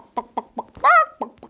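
A voice imitates a hen, giving a run of short clucks with one longer, drawn-out squawk in the middle. It is close and clear, with no other talk.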